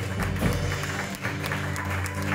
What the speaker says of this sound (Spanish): Levante su mano y dale aplauso al Padre.